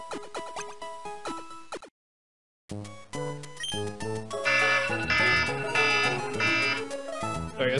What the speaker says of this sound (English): Alarm going.